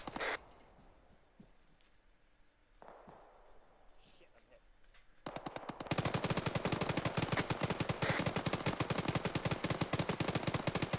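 A BRDM armored vehicle fires in a military video game. A few sparse distant thuds come first, then sustained, loud, rapid automatic gunfire runs continuously to the end.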